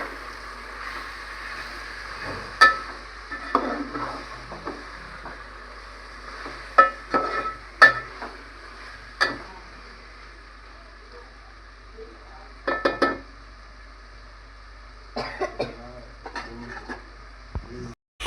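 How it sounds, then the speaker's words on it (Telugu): Chicken biryani being stirred in a pot, with intermittent scraping and clinking of a spoon against metal over a faint steady hum, while a person talks. "ఇటేమో మసులుతుంది, ఇటేమో మంచిగా కలుపుకోవాలి"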